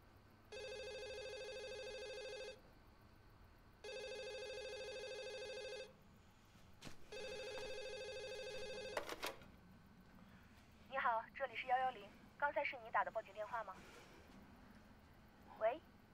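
A telephone rings in repeated electronic bursts on an emergency police call, three long tones followed by a click and then voices talking near the phone.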